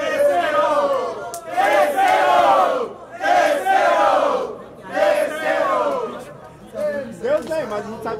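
Crowd at a Brazilian rap battle final, Batalha do Museu, roars and shouts in repeated loud surges with short dips between, close and dense, the cheering rising again near the end.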